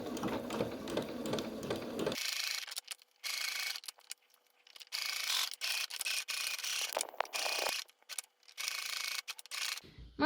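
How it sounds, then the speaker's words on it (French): A sewing machine stitches a seam around a waterproof pouch, its needle running in rapid mechanical bursts with short pauses and stops between runs, close and clear. "on fait une couture tout autour en laissant un espace vide en dessous"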